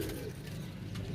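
Pigeons cooing at a breeders' market or loft with a large batch of birds, steady low murmuring calls close by and continuous over background noise.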